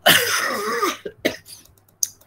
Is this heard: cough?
yes